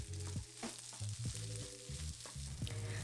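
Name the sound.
stir-frying rice with XO sauce in a pan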